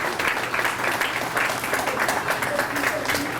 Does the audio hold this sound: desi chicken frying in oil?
no